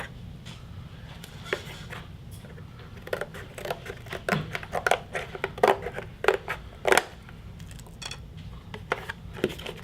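Scissors snip through the cardboard of a shoe box being made into a camera obscura, giving a close, irregular run of sharp crisp cuts and crunches over a low room hum.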